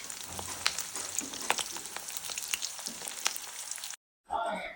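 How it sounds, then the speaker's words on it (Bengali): Fish roe fritters fry in hot mustard oil for a fish and potato curry, giving a steady close crackling sizzle with sharp pops. The sound cuts out abruptly, then a voice speaks briefly. "তেলের মধ্যে ভালো করে ভেজে নিচ্ছি প্রত্যেকটা বড়া"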